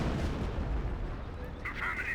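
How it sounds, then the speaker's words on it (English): Heavy artillery barrage in the World War II strategy game Company of Heroes, a dense continuous rumble of distant blasts filling the moment at steady loudness. "We're seeing some artillery."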